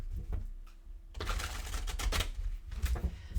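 Tarot cards are shuffled close up in a rapid, rustling riffle of papery flicks and taps, dense and continuous after a brief quieter start, with no talking.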